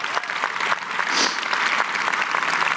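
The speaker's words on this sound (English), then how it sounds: "Another round of applause." Applause from a large audience at a high school graduation ceremony, a dense, steady patter of many hands clapping continuously at close range, with no voices over it.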